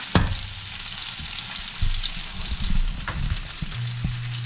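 Salmon fillets searing in a frying pan give a steady close sizzle, with a few clanks and scrapes as the fish is turned over, and no talking.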